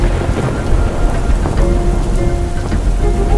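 Heavy summer downpour in Tirunelveli, Tamil Nadu: dense, loud rain pounding surfaces with low thunder rumbling underneath, steady throughout with no voices.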